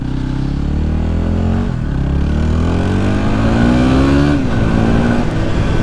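A Yamaha WR250R dual sport motorcycle engine revs loud and close, its pitch climbing and dipping steadily through each rise in throttle.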